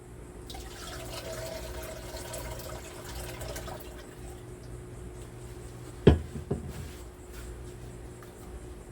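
Water is poured into a mix of evaporated milk for homemade mango ice cream, a soft steady splashing that fades, then a sharp knock and a few smaller bumps follow.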